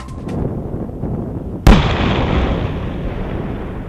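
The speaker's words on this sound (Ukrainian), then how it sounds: "Небезпечні знахідки вилучили та знищили шляхом контрольованого підриву" A controlled detonation of old wartime munitions, artillery shells of various calibres and two hand grenades, goes off as one sudden loud blast, then a long rumbling roar that slowly fades over steady outdoor noise.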